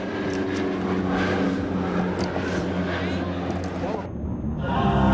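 A Bronco military aircraft flies past with a steady, loud engine drone and propeller hum, mixed with broadband noise throughout and a brief dip near the end before the roar swells again.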